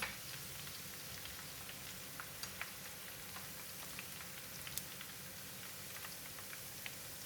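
Garlic deep-frying in very hot oil for crispy fried tilapia, a faint, even bubbling hiss dotted with small scattered pops, steady throughout with no voices.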